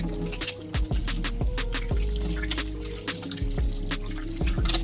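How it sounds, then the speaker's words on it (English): Hands scrubbed under a running kitchen tap, a steady close stream of water with splashing and rubbing, intermittent thuds and clicks over it, and no talking. "we're going to wash our hands thoroughly"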